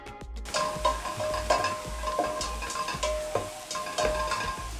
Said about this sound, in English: Mix and let everything cook until fragrant.